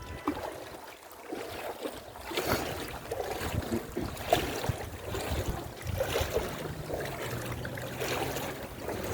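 Water sloshing and splashing as someone wades through rain floodwater at a busy multi-road roundabout in Al Butina, Sharjah, UAE, with steady wind noise throughout and no voices.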